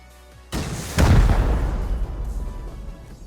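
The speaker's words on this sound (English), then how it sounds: "Rockets off. So far we've used 13 rockets." A rocket explosion strikes a base wall in the Rust video game: a sudden loud blast followed by a second heavier boom, then a long rumbling decay fading over a few seconds.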